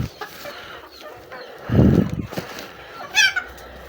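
Cochin chickens loosed into a garden give a few scattered clucks against faint outdoor background, with one fuller burst in the middle and a brief higher call near the end.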